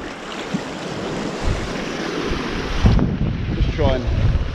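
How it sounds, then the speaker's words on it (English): Tidal sea water washes against a shore during bass lure fishing, a steady rushing roar of surf mixed with gusting wind noise on the microphone, swelling louder toward the end. "Tide rips from right to left."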